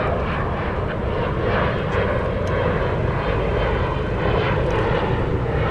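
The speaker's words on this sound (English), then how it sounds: "looks like UPS 2752, the MD-11 may do a taxiway B intersection takeoff from 36 right" A UPS MD-11 three-engine jet roars during a night intersection takeoff from runway 36 Right at DFW Airport. The loud, steady engine rumble holds throughout without fading.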